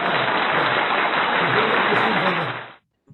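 An audience claps loudly and steadily for nearly three seconds, then the applause stops abruptly and a faint sound follows.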